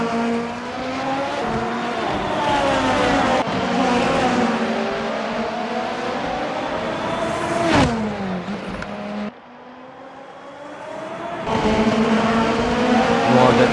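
Race cars scream past at speed on the SUGO circuit in a Formula racing video game, engines climbing and dropping through gear changes, with tire squeal and a brief dip in the middle before the roar returns.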